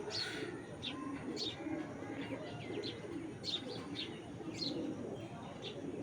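Pigeons in a loft, including an old Bezi breed bird about six years old, give quiet, steady cooing and scattered high chirps, with a person talking softly under the calls.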